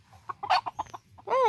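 A rooster at feeding time gives a quick series of close clucks and short calls, then ends on a louder drawn-out squawk.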